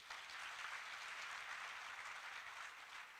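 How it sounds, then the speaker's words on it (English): Audience clapping for the Governor at a boys' mentorship camp at a high school, a continuous faint wash of applause held evenly for about three seconds. "Can we clap for the Governor?"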